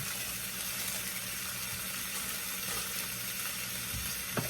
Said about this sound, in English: I'm going to flip this baby here because he's sizzling.